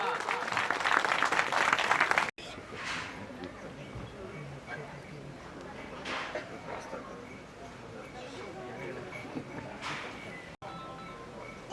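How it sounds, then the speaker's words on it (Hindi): Crowd applause at a Guru Ravidas Jayanti gathering greets Dr. Bhavna Sharma, a registrar arriving at Bhiwani, with steady hand-clapping that runs throughout, loudest at first and then lingering beneath someone talking over a PA. "उनका जोरदार तालियों से स्वागत भाई, जोरदार।"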